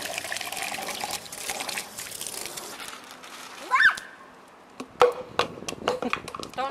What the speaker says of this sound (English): it takes all the water that's off the roof, puts it in the gutter, yeah. And then the gutter drains it out.